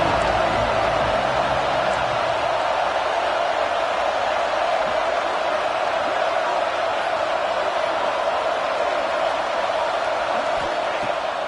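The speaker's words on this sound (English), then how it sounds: "This crowd trying to make life miserable for this offense." A dense, steady roar from a packed football stadium crowd at a Penn State game, loud and unbroken throughout with no distinct voices standing out.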